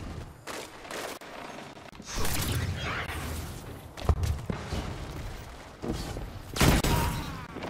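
Shotgun blasts ring out in a PvP video game match, several sharp, booming shots spaced a second or more apart, mixed with mechanical clacks and reloading rattles.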